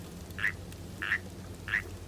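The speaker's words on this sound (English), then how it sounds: "he's croaking and it's so cute" A frog villager in Animal Crossing: New Horizons croaks three times at even intervals, short bright quacking calls over a quiet game background.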